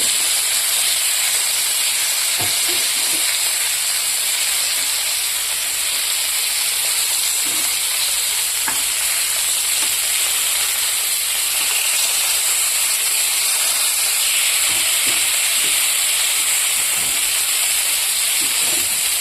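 Fish, potato and cauliflower frying in hot oil in a pan, giving a steady, continuous hiss and sizzle close by with a few faint clicks and knocks, no voices.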